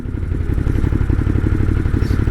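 A BMW S1000RR motorcycle engine runs while riding, giving a loud, close, steady low drone that pulses rapidly throughout.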